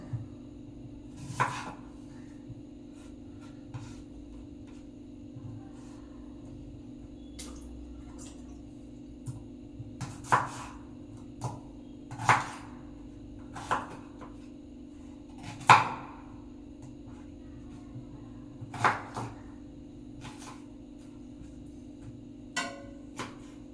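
An onion being chopped with a knife in a home kitchen: sparse, sharp knife taps on a board at irregular intervals over a steady low hum, with no talking.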